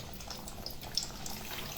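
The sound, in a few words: pempek tahu (fish cake with tofu) frying in oil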